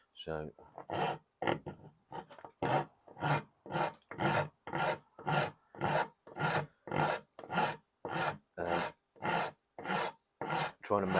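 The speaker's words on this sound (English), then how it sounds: "I'm starting on the Iwasaki files because it's a tighter space, and you just start removing material between the lines." Coarse Iwasaki file rasping away wood while carving an electric guitar body, heard as about twenty steady, evenly spaced scraping strokes, loud and close, with a brief word spoken at the start.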